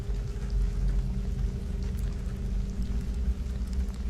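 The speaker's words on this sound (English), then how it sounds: "The rain fell in sheets over Eugene, Oregon, drumming against the sleek glass windows" Steady heavy rain falling in sheets against glass windows, a dense, even patter with a low rumbling undertone, continuous and alone without voices.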